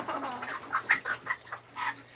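Small chickens cluck in short, soft bursts, several quick calls close together at low volume.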